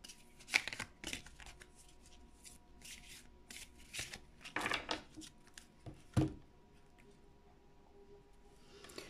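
Tarot cards being shuffled by hand in a quiet room, several short bursts of riffling and sliding card noise with pauses between, close but soft.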